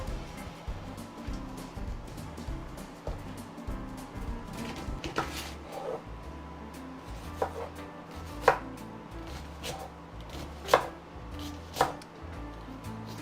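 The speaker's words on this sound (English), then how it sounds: "As you're cutting that onion" A knife chops a whole onion on a cutting board for a sausage-and-grits dish, a steady run of soft knocks with a few sharper, louder strikes near the end, set over a busy background hum.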